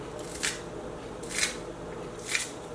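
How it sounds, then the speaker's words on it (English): Scissors snip through green onion tops in three crisp, evenly spaced cuts about a second apart, close and clear over a faint room hum with no talking. "Just take a pair of scissors and cut these up into little"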